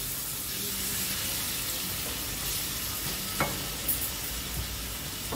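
Tomatoes fry in a pan for a Konkani fish thali, a steady close sizzle with a spoon stirring and scraping now and then, a few clinks near the end.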